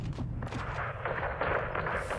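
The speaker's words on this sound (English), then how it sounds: "Gonna shoot." Sustained gunfire rattles in Call of Duty Modern Warfare 2, a dense, loud barrage of rapid shots and booms layered over steady battle noise, close and continuous throughout.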